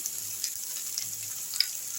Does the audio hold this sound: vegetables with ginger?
yes